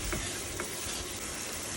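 Turmeric, chili powder and ginger-garlic-cumin paste stirred and fried in a pan make a dense, steady hiss and sizzle, close and loud, with faint stirring scrapes and no voices.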